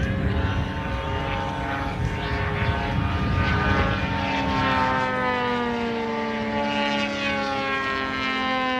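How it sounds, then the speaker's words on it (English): A large model aircraft at an airshow gives a loud, sustained propeller whine with a steady harmonic drone that shifts slowly in pitch as it passes, continuous and alone. "it's propeller noise. As the propeller reaches almost the speed of sound at the tips, that's the noise that you get."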